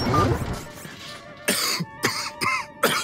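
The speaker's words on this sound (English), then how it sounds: "He's coughing up a storm." Several loud, harsh coughs in quick bursts, close to the mic, following a stretch of quieter background sound.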